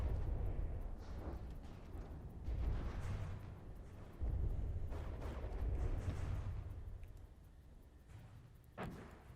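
Larger swarm missiles in From the Depths exploding as several low, rumbling booms that roll on in waves, fairly faint and distant, with one final sharper blast near the end.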